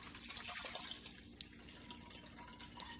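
Golden dandelion tea poured into a colander, a steady soft liquid splash with a few brighter drips, close by and alone.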